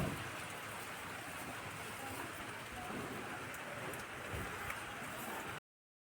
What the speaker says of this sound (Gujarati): તો તમે જો આ વરસાદ ચાલુ છે.